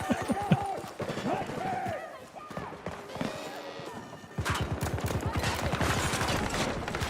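Bursts of video game gunfire crackle in a busy firefight, with rapid repeated shots and crashing impacts layered under a voice talking over the action.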